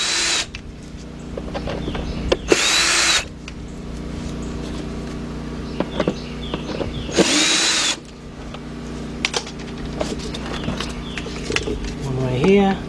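Power tool zips out bolts around the left headlight assembly of a 2007 Volkswagen Passat 2.0, two short loud whirring bursts with scattered clanks of parts, and someone talking between them.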